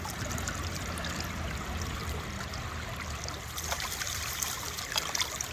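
Water steadily rinses a clump of moss in a creek-side gold sluice, a continuous trickling and splashing flow that stays close and even throughout with a few brighter drips near the end.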